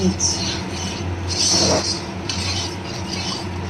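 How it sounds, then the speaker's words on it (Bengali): Masala of Kashmiri chili powder, salt and turmeric being stir-fried in a pan for a katla fish curry, giving a steady, close scraping and stirring hiss with a soft sizzle, while a voice talks over parts of it. "কাশ্মীরি লঙ্কা গুঁড়ো নুন হলুদ দিয়ে মশলাটা এবার কষিয়ে"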